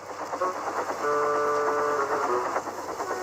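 A toy-style steam engine chuffs and rolls along with a rhythmic mechanical rattle and a brief sustained whistle-like tone, close and fairly loud, no voices over it.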